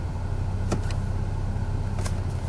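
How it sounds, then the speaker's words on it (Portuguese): A close, steady low rumble comes from an Audi A3 1.8 20v engine idling in drive with the brake held, the engine running rough and prone to stalling, with a couple of faint brief squeaks above it and no speech. "Estou exigindo mais o motor. Tá vendo que quando ele cai mais quando está em marcha?"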